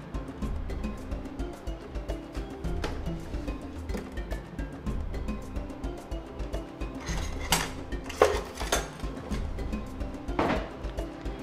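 Cutlery clinks and rattles in a home kitchen as a knife is picked out from among other utensils, a few sharp metallic chinks standing out over steady low background noise.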